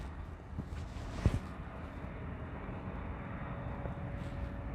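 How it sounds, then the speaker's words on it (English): Steady low engine drone of a helicopter overhead, continuous and fairly loud, with wind rumble mixed in and no voices. "I hear a helicopter and I'm trying to make sure I'm not in its way"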